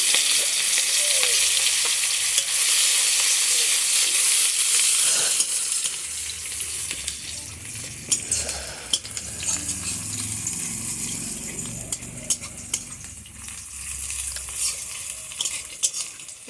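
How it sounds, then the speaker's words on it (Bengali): Onions go into hot oil in a pan after dried fish has been fried, bursting into a loud, hissing sizzle that later settles into a softer crackle with occasional clinks and scrapes of stirring. "তেল গরম হয়ে গেছে দিয়ে দেবো পেঁয়াজ"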